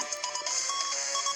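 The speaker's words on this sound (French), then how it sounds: "c'est le bruit de quelqu'un qui meurt dans cette map" In a Roblox game map, a short synthetic chime plays when a player dies: a bright, ringing electronic tone with quick repeated pulses, brief and clear with no talking over it.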